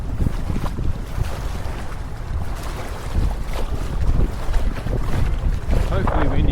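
Gusty onshore westerly wind buffets the microphone at a Pittwater beach, a loud continuous rumble that swells and dips with each gust, with water and surf noise beneath.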